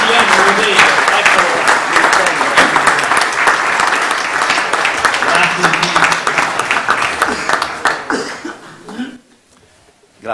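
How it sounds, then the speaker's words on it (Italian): Audience in a hall applauding to welcome an arriving guest at a Rotary gathering, loud sustained clapping for about nine seconds with coughs and murmurs, then fading to near silence before a voice resumes. "Prima vorrei un applauso"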